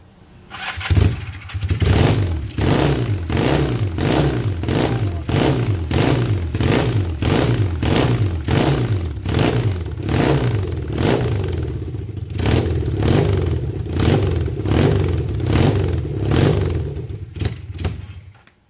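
Kawasaki KZ400 motorcycle engine, a project bike fitted with an eBay motor, running loud and close with a steady rapid thumping beat, held at high idle and revved throughout before cutting off near the end.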